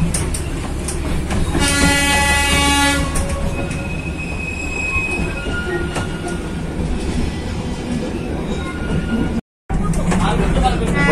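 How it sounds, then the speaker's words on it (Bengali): A Darjeeling toy train on the Kurseong to Ghum run rumbles along with squealing wheels and a sustained whistle blast near the start, loud and close throughout, with brief voices under the noise. "হুইসেল বাজিয়ে টয় ট্রেন চলছে কার্শিয়াং থেকে ঘুমের দিকে।"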